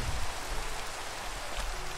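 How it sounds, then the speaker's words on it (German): Heavy rain pours in a Minecraft game, a steady dense hiss of downpour filling the whole stretch without pause. "es regnet immer noch in Strömen"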